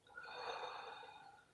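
A single long exhale, soft and steady, lasting about a second and a half during a calming breathing exercise.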